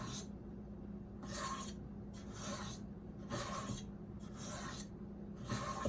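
Knife sharpened on a sharpening stone with light pressure, about eight soft, close rasping strokes in an even back-and-forth rhythm, each under a second, with quiet pauses between.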